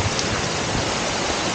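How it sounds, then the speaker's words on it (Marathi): Heavy monsoon rain pours steadily on a mountain trek near Bhimashankar, a dense, even hiss of rainfall with no breaks, loud and close throughout. "अचानक क्लायमेट बदलला, पाऊस खूप जोरात चालू झाला आहे."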